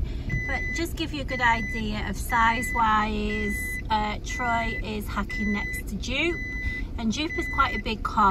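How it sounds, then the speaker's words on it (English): A car's high electronic seatbelt warning chime beeps repeatedly inside the car while someone talks continuously over it. "Excuse the beeping on the car. That's because I haven't got my seatbelt on."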